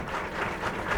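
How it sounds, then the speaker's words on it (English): Generous crowd applause at a soccer all-star game, a steady wash of clapping from the stands that holds evenly throughout the short moment. "Generous applause from the crowd."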